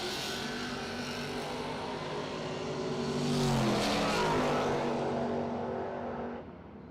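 Drag racing door cars launching down the lanes at a West Texas Halloween Shootout, a loud engine roar that swells as the cars pass close, then fades away and drops off sharply at the end.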